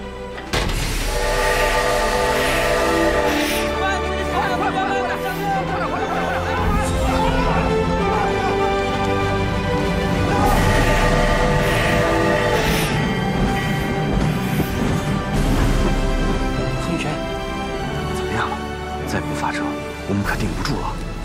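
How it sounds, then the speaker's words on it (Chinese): A passenger train pulling away and rolling steadily along the track, with loud drawn-out whistle blasts rising over the continuous rumble of the cars. "列车已经启动了"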